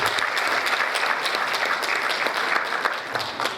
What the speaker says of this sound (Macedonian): Аплауз за гостите од Црна Гора.